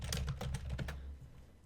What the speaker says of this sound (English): So let's hit X on the keyboard